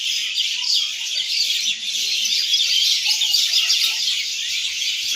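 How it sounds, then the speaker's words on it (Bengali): Myna birds in trees beside a rooftop keep up a dense, continuous high-pitched chattering and squabbling, a busy wash of overlapping calls heard close and fairly loud. "শালিক পাখিগুলা প্রচুর ক্যাচেমচুরি করতেছে শব্দটা আপনার হয়তো ভিডিওতে শুনতে পাবেন"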